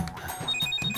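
A telephone rings in a home, short electronic ringtone bursts repeating in a quick pulsing rhythm at moderate loudness, with no speech over it.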